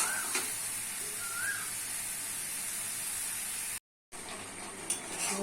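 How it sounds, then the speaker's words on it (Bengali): Potatoes and pointed gourd fry in a pan, giving a steady, even hiss of sizzling oil that runs unbroken for several seconds, then cuts out briefly before resuming. No voices are heard. "দিচ্ছি পটল আলু দেবো ভালো করে কষে দিতে হবে"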